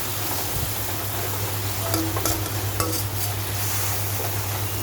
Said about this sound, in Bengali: এর মাঝে দিয়ে দিলাম মাছ, পাবদা মাছ।